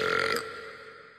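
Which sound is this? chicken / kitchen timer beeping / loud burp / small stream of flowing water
loud burp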